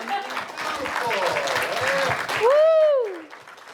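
An audience at a film premiere applauds in a lively burst, mixed with cheers and a loud whoop near the end and brief talk over the clapping.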